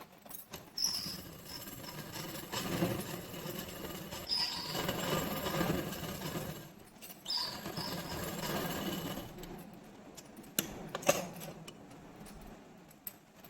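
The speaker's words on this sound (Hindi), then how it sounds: "अब मैं इस पर एक पैर की सिलाई इधर की साइड को लगाती हूँ।" A sewing machine stitches a seam on a girls' night dress in three long runs, its rapid whirring pausing briefly between them. A few light clicks and rattles are heard near the end, all fairly quiet and close by.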